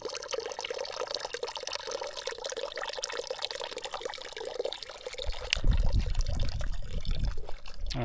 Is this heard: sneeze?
no